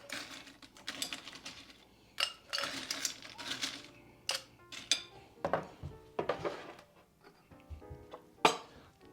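Small ice cubes clatter into a salt-rimmed cocktail glass, a series of sharp clinks and rattling bursts spread unevenly over several seconds, close and fairly quiet.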